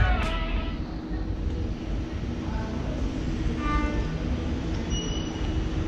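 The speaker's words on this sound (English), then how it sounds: "I'm at the train station now." Train at a railway station, a steady rolling rumble of wagons with metallic wheel squeals and faint high tones rising over the noise, moderately distant and continuous throughout.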